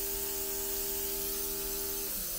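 Nano spray mist from a wireless blue-light atomizer gun on speed setting 2, a steady close hiss with a constant motor whine that cuts off near the end.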